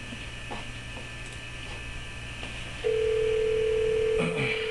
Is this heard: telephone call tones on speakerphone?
yes